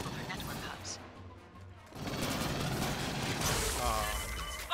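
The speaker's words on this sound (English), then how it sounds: "The explosions." Explosions and gunfire in the sci-fi shooter video game Alien Firestorm: a dense, sustained roar of blasts and crackling fire that swells after a quieter opening, with game voices faintly mixed in.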